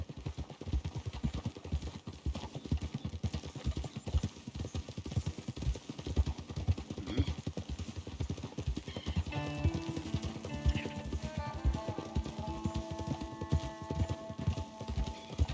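Hooves of a horse-drawn carriage clip-clop steadily at close range in the Red Dead Redemption 2 video game, a continuous rhythmic patter with wheels and tack rattling, later joined by soft musical tones from the game.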